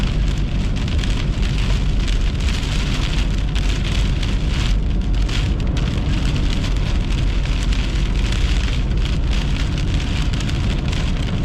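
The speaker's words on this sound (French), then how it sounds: "c'est de la pluie, là, c'est pas normal" Heavy rain pours down continuously and loudly during a storm with gusts of wind, a dense steady hiss of drops pounding a surface with no letup.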